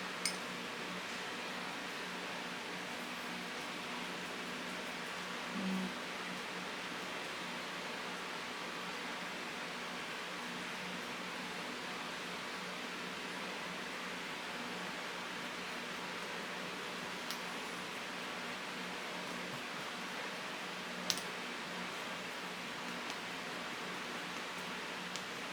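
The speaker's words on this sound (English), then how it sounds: "I don't have any air conditioning in here, so the fans are kind of loud everywhere." Electric fans running in a room without air conditioning give a steady, even broadband whoosh that stays level throughout, with only a couple of faint brief clicks and no speech.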